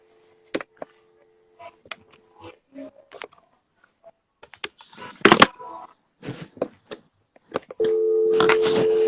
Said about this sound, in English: You hear the phone?